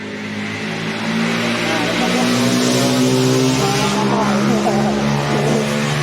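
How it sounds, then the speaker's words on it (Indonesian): A loud motorcycle engine roars steadily and close up, its throaty drone swelling slightly after the first second and holding at full volume throughout. "suara motor yang sangat keras"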